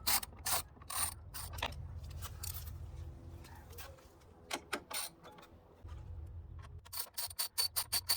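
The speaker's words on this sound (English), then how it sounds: "we're going to put the same bolt back in and tighten it" A ratchet wrench tightens a light bar bracket bolt on a 2022–2023 Toyota Tundra, giving close, crisp bursts of rapid clicking separated by short pauses.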